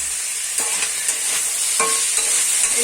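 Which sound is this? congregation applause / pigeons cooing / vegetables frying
vegetables frying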